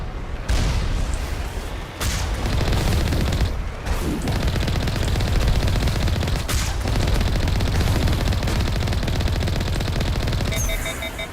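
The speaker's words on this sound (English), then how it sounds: "oh, that's a rocket!" Rocket fire and explosions in the Mass Effect Legendary Edition video game, a loud, continuous roar of gunfire and blasts with sharp bursts cutting through. A faint electronic tone comes in near the end.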